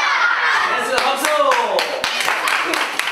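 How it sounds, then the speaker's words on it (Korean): Children in a Korean mask dance class clap together in a steady rhythm, about eight sharp claps, with voices calling out over them. "박수!"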